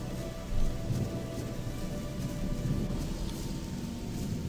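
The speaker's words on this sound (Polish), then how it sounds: "dosyć mocno ogranicza widoczność ten deszcz" Steady rain falls in the video game Gothic, a dense continuous hiss of drops with faint deeper rumbles underneath and no voices.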